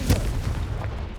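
A Confringo fire spell explodes in the Hogwarts Legacy video game: one sharp, booming blast at the start, then a low rumbling tail that fades over about a second.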